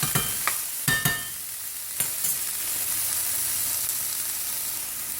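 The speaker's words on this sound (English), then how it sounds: "I'm going to add a half a cup of chopped mushrooms. And just let them kind of simmer a little." Chopped mushrooms cooking in a pan for a chicken vegetable frittata, with a soft continuous sizzle and a few clinks of a utensil early on, then a quieter steady hiss.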